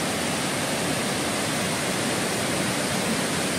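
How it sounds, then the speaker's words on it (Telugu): A large waterfall beside a mountain ashram roars in a dense, unbroken rush of falling water, loud and constant throughout with no voices. "అత్యంత పెద్ద జలపాతం"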